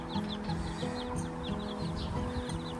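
Chickens cluck over and over in short, soft bursts close by, over a low steady background hum.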